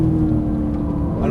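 Porsche GT3 991 engine pulling hard under full throttle, a loud close steady roar with a strong low hum, a voice talking over it throughout.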